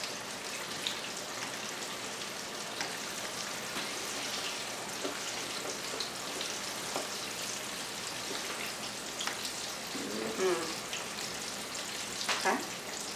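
Mustard-coated fried chicken pieces sizzle in a pan over medium heat, a dense, steady crackling hiss throughout, with a faint voice briefly in the background.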